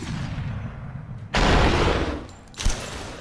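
A loud burst of gunfire in the video game Superhot cuts in sharply after a quiet hum, fades off, then one more short sharp shot lands near the end.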